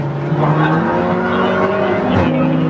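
Race cars, including a BMW, cross the finish line at Silverstone during a Britcar Trophy race, a loud close engine drone with a rising whine and a sharp pitch drop as one passes, over commentary.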